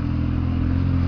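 A Kawasaki Z750 motorcycle on its original exhaust holds a steady, loud idle-to-rev drone, a deep, continuous engine rumble without break, close by and with no talking.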